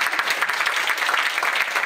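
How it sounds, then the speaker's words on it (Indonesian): Audience applause at a seminar on small businesses, a steady dense patter of clapping from a crowd that holds evenly through the whole stretch with no voices over it. "Dan setelah ini, boleh minta tepuk tangan sekali lagi."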